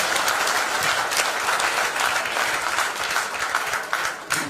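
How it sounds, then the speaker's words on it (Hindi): Steady, dense applause from a crowd at an agricultural products training session fills the whole stretch, loud and continuous with no talking. "जोरदार तालियां।"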